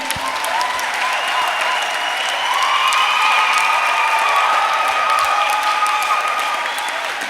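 A church congregation applauds with steady, dense clapping that fills the room, loud and sustained without a break, with a little faint cheering mixed in.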